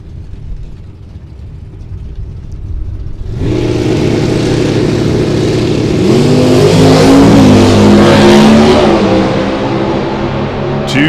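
A Volare and a Cobalt launch side by side down a Las Vegas drag strip, quiet idle then a sudden loud burst of revving engines that climbs through gear changes and stays close and loud.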